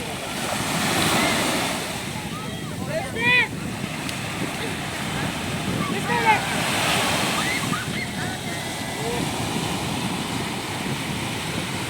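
Sea waves washing onto the beach at Side on a windy day, a steady broad surf roar with wind buffeting the microphone and a few faint chirps over it.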